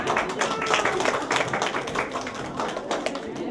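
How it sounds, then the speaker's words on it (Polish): Applause for the third-place winner at a children's fishing contest, with dense overlapping clapping rolling steadily and fairly loud through the whole stretch. "Wielkie brawa"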